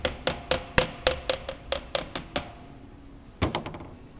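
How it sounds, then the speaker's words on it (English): A hammer taps lightly on a vane pump cartridge to seat it onto a dowel pin, a quick run of about nine sharp metallic taps followed by a pause and a few more close, clear hits. "It's okay to use a hammer lightly."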